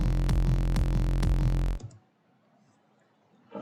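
An electronic dance track loops a kick drum and a bass note sounding together, a loud low thumping beat with a clicky attack that cuts off abruptly partway, leaving near silence.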